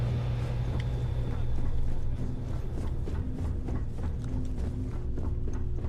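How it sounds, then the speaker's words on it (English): Ship engines rumble in the video game Starfield, a steady low droning hum with a faint tonal whine running continuously underneath, with some light clicking and shifting noise over the top. "Hear the engines kick."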